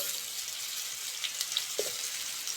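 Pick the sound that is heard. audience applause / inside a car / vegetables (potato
vegetables (potato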